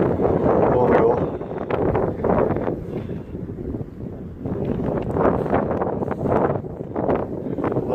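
Gusty wind buffets the microphone outdoors during wood carving on a windy day, a loud continuous roar that swells and dips throughout, with a brief lull in the middle and possible voices mixed into the rumble.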